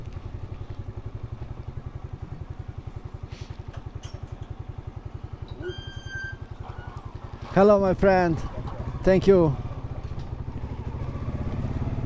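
A motorcycle engine idles steadily nearby with a low, even throb after a ride back through rain, about to be put in a garage. Two people exchange brief greetings over the running engine midway through.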